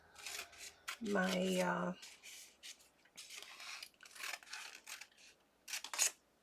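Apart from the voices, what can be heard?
scissors trimming around plastic packaging piece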